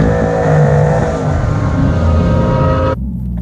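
A C8 Corvette engine revs hard for a burnout, a loud, sustained roaring drone held close up that drops off abruptly near the end, with no one talking.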